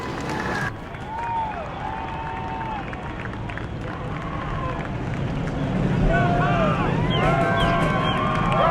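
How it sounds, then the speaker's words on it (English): A large crowd at a Super Stock stock-car race in New Smyrna roars and cheers continuously at a distance, with engine noise and loudspeaker-like tones drifting over the din, the cheering swelling toward the end. "Ladies and gentlemen, let's hear it for Paul Coaching in the 99."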